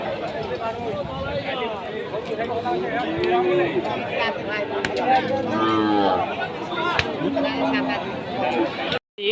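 Cattle moo again and again, near and far, at the Rustampur cow market in Rajshahi, over busy crowd chatter and people talking.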